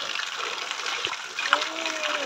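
Water pours from a stone spout (tindhara) in a continuous splashing stream, close and moderately loud, with people's voices mixed in.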